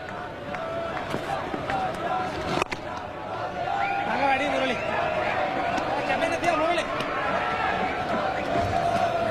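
Cricket stadium crowd with many Sri Lankan fans, a dense murmur of chatter and scattered shouts and cheers filling the ground, continuous and fairly distant, with commentary voices over it.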